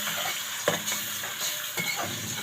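Crushed garlic frying and stirred in a pan for Egyptian koshari: a steady bright sizzle with a couple of sharp scraping spoon strokes against the pan, close and alone, with no talk.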